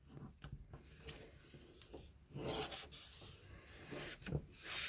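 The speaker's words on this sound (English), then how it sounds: "rub with the cloth all the way through until the glue is dry." A cloth rubs over glued thin cardboard in close, uneven scraping strokes, with soft rasping bursts and brief pauses, fairly quiet and without speech.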